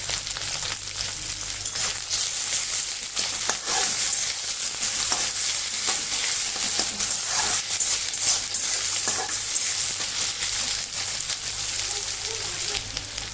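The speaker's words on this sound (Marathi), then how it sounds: "त्याच्यामध्ये टोमॅटो टाकून छोटासाच टोमॅटो तो पण परतून घेतो" Tomato sautéing in a pan for a sprouted green moong curry gives a loud, steady, close sizzle with crackling spatter that runs unbroken the whole time, with no talking.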